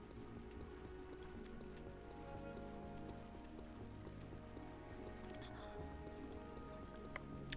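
Footsteps in the video game Tamriel Rebuilt patter in a steady clip-clop rhythm under a constant droning ambient bed, moderately loud and continuous.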